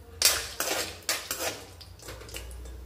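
A spoon stirs cashews and almonds frying in ghee in a metal pan, making close scraping clinks and knocks in uneven bursts.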